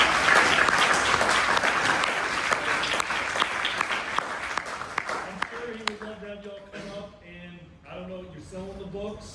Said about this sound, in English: All right, let's give Miller another round of applause.